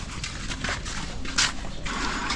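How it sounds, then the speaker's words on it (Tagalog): A dog nearby makes rhythmic snuffling, panting sounds, fairly close, with soft breathy bursts repeating. "Grabe naman itong aso ko."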